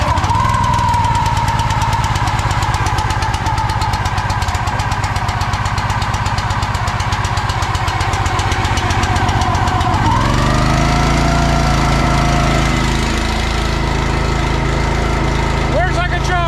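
A small gasoline engine on a homestead is choked and started, then runs loud and steady with a rough, knocking chug, its pitch shifting as it settles partway through.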